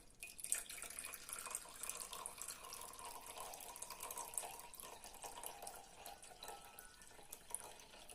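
Liquid pours steadily in a quiet, continuous trickling stream, soft and close, without any talking.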